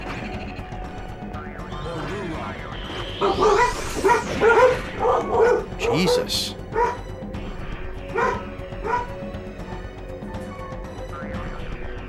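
A puppy in the .hack//Quarantine game barks in a run of sharp yips and bow-wows mid-clip, loud over background game music, with a brief spoken exclamation.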